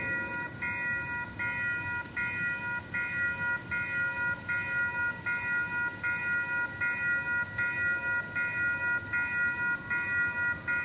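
Warning bells at a level crossing on the South Shore Line clang in a steady repeating rhythm, with a low rumble beneath them as a train passes. No one speaks.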